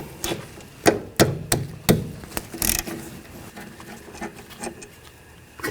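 A 14mm socket turns out the rear brake caliper bolts on a 2012-16 Honda CR-V, with close, irregular sharp clicks and metallic knocks that thin out into softer ticks toward the end.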